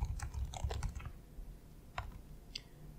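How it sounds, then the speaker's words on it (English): Keys clatter on a computer keyboard while someone types a search into a support knowledge base, a quick burst of clicks at first, then a few isolated taps after a pause, close and fairly quiet. "I'll start typing link server"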